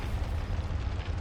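Confringo fire spell blast in the video game Hogwarts Legacy, a short loud booming burst with a rumbling low-end roar that fills the brief moment.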